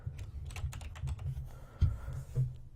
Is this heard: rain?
no